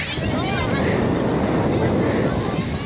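Wind roaring across the microphone at Caringin beach in Banten after rain, a loud, steady rumbling buffet with no pause.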